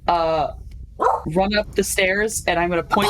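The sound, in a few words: dog barking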